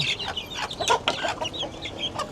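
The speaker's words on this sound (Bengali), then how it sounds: "সবার ক্ষুধা লেগে গেছে সবাই হচ্ছে চিৎকার করতেছে মুরগিগুলো" A busy flock of hungry chickens clucks and squawks continuously, several birds calling over one another up close, loud and agitated.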